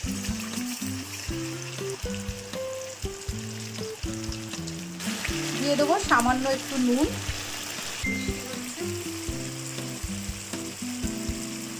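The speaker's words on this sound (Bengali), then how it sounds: "একটা শুকনো লঙ্কা একটা তেজপাতা ফোড়নটা একটু ভাজা ভাজা হবে" Dried red chilli, bay leaf and spice paste fry in hot oil, a steady crackling sizzle with stirring that swells briefly midway, running under near, continuous talk.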